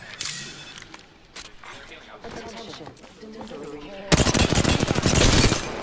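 Video game gunfire: scattered shots and mechanical clicks under a talking voice, then a loud, rapid burst of automatic fire near the end.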